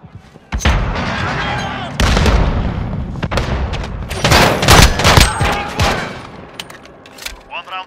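Rapid gunfire and booming blasts, including a stun grenade, fill a Call of Duty Modern Warfare firefight in loud, dense bursts with short gaps, with voices shouting beneath the combat.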